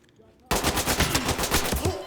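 Rapid automatic gunfire rips out in the tactical police shooter Ready or Not, a loud sustained burst of closely spaced shots that starts abruptly after a quiet moment and runs to the end.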